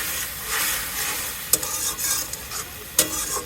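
Vegetable curry with shrimp and garlic paste is stirred in a sizzling pan, a steady frying hiss with sharp utensil scrapes and clicks against the pan around the middle and near the end.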